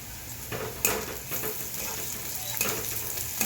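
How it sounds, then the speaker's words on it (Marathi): Onion and garlic fry in a pan with a steady hiss and sizzle, punctuated by a few scraping stirs and light utensil clinks, nearby and fairly quiet. "आणि कांदा लसूण परतून घेऊ।"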